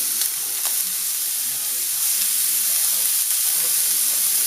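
Vegetables and turkey stir-frying with sesame seeds in a hot pan, a loud steady sizzle and hiss, close up with faint stirring scrapes and no talk.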